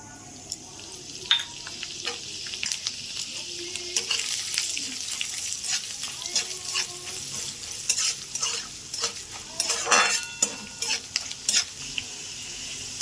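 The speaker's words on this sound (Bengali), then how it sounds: "দুটো তেজপাতা একটু ভেজে নেব এই দেখুন গোবিন্দভোগ চাল দিয়ে দিলাম আমি" Bay leaves and Gobindobhog rice frying in white oil, a soft continuous sizzle broken by frequent scraping and clinking of a spoon stirring against the pan.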